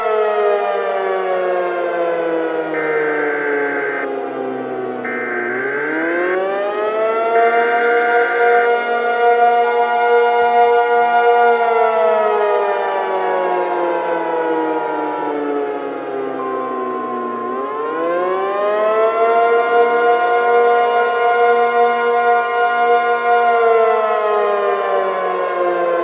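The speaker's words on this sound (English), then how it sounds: "That are the damn tsunami warning sirens!" Tsunami warning sirens wail loud and steady, their pitch sweeping up and down in long slow cycles with no talking over them.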